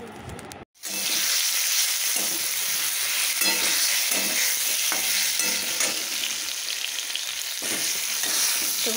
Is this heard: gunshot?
no